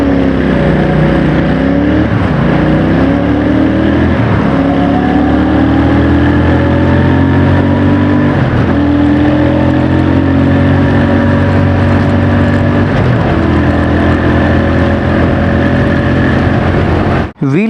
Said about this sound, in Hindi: एक बार माइक को मैं प्लेस करता हूँ अपने बैग में और फिर सुनते हैं इसका एग्जॉस्ट साउंड।